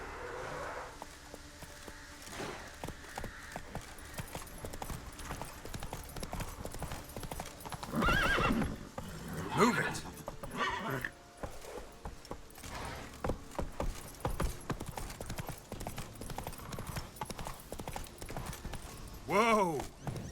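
Roach the horse gallops in Witcher 3, rapid clip-clop hoofbeats running throughout with a couple of loud whinnies, mixed with game sounds and a voice calling out.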